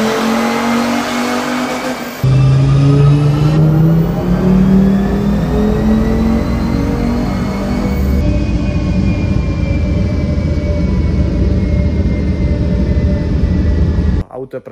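Mercedes car engine running on a dynamometer, a loud sustained drone that steps up in pitch through several gear changes before cutting off abruptly at the end.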